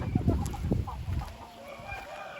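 Chickens on a farm cluck and call near the nest boxes during egg collection, with a few short, close bursts of rooster and hen sounds over a quiet background.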